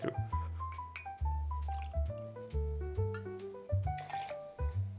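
Rye whiskey for an Old Fashioned cocktail is poured from a bottle, about 30 ml, in a run of close, hollow glugs whose pitch steps up and down rhythmically, with no talking.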